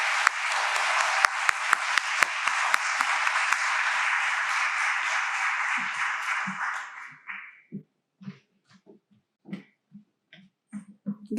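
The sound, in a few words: applause for a student poet coming up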